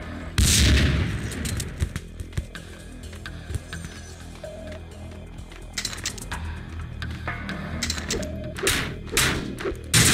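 Gunfire in the video game Max Payne 2: repeated loud, sharp shots and bursts, some in quick volleys, with heavy thuds and impacts spread across a noisy action scene.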